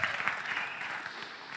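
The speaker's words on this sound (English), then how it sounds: "I expect you to clap every time I say it" A church congregation claps together during a sermon, producing a brisk, moderately loud burst of applause that fades slightly toward the end.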